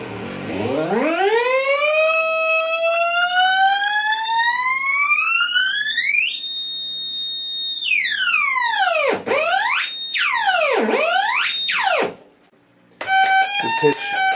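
A circuit-bent Fisher-Price toy violin gives electronic pseudo-theremin tones: a long rising glide, a held high pitch, then several swooping down-and-up sweeps and a short burst of stepped notes after a brief pause.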